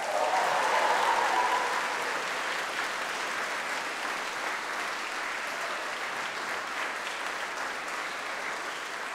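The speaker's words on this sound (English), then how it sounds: "can you give them another round of applause?" A large graduation ceremony audience applauds at length, a continuous dense roar of clapping that is loudest at first and then holds at a slightly lower level throughout.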